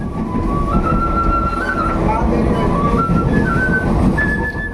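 A sweet-toned bamboo flute plays a simple wavering melody of held and gliding notes, heard moderately close over a steady low rumble of travel noise.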